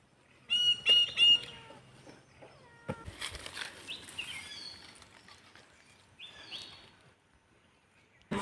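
A chicken clucks at a home, giving short bursts of sharp, close calls early on and again later, with quieter rustling and scratching sounds in between.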